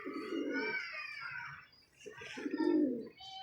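Pigeons coo in two long throaty bursts, the second after a short pause, loud and close with nothing else heard. The birds are yellow flying pigeons of the roller type, kept as pets.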